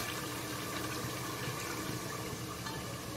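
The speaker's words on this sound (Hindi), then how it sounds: "अब इसमें हम थोड़ा सा पानी डालेंगे," Water poured into a pan of chicken korma masala after the spices and chicken have been fried, giving a steady, close wash of liquid hiss and sizzle with no voices.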